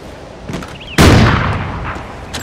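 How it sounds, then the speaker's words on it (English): A single loud, close gunshot from a Mk14 rifle in a video game, a sharp boom with a rolling tail that fades over about a second and a half. "Hit someone in the head with the Mark 14 at one shot."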